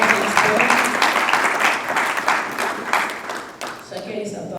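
An audience at a Congolese tourism talk applauds an expert with dense, sustained clapping that swells and ebbs over several seconds before trailing off, with voices mixed in.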